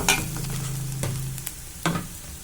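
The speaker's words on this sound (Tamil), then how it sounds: "இது எல்லாத்தையும் போட்டு நல்லா வதக்கி விட்டுக்கலாம்" Steady sizzle of onions, spices, green chillies and tomato frying in a pan, with a couple of sharp scraping stirs of a utensil partway through.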